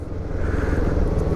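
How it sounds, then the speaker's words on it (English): A Zontes M310 scooter with a 35-horsepower engine runs close by with a steady, even low drone. "And the engine sounds pretty good."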